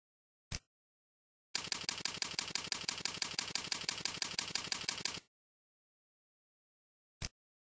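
Rapid, steady keystrokes on a computer keyboard while a document name is entered for export, a dense burst of clicking lasting several seconds, set off by single isolated clicks before and after against silence.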